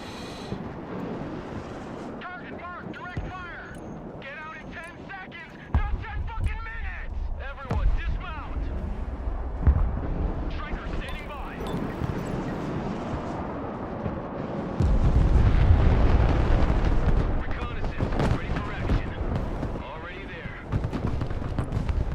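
Mobile artillery fires in Broken Arrow, booming blasts and a sustained loud rumble in the second half over battle noise, with radio-style unit voices and someone talking throughout.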